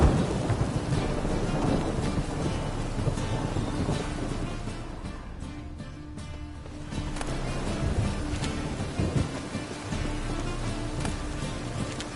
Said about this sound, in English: It's raining buckets.